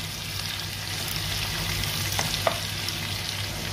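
Garlic and ginger frying in a pan for chicken sambal while being stirred, a steady close sizzle with light scraping of the spoon throughout.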